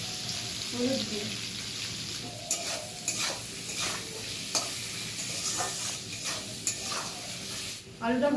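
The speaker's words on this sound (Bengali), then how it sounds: "এবার আমি আলুগুলো ভেজে নেব।" Potatoes fry in an Indian home kitchen pan, making a steady soft sizzle broken by repeated stirring scrapes and clicks, with no one talking.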